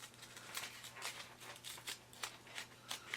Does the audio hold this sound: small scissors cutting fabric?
yes